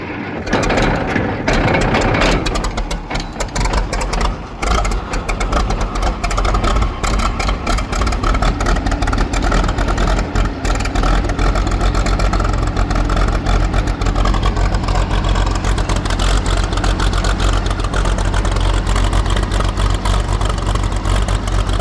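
A Case 500 diesel tractor engine runs steadily after starting, a loud, continuous low rumble that settles into an even idle as it warms up, with no voices over it.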